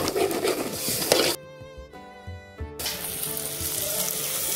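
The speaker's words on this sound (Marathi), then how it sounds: "त्याला तेल सुटेपर्यंत आपण भाजून घेऊ." An onion and garlic masala paste fries in oil with a close, bright sizzle and crackle. It cuts out abruptly for about a second, leaving a tonal hum, then the sizzling returns.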